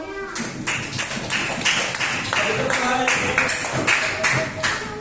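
A second-grade class claps their hands together in a classroom, sharp rhythmic claps repeating steadily and close, with a few voices mixed in.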